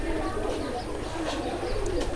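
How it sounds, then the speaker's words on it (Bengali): A male Jak floor giribaj pigeon, a local Rajshahi breed, coos softly and close by in low murmuring notes, with faint background noise. "আজকে আরেকটি কবুতর দেখাবো আপনাদেরকে, সেটা হচ্ছে জাক ফ্লোর"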